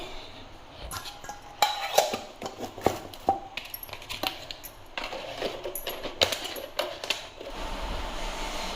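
Food being packed into a lunch box in a home kitchen, with close clinks and clatters of metal containers and utensils in irregular bursts throughout.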